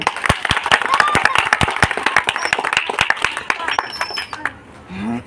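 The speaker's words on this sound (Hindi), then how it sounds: "तालियां।" Loud, close applause from a crowd at a Baba Saheb Jayanti speech event, with sharp individual claps over a dense wash, fading out near the end as a voice starts to speak.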